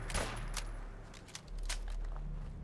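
Scattered pipe rifle shots in Fallout 4, a few sharp cracks spread irregularly over low background rumble, moderately loud with no voices.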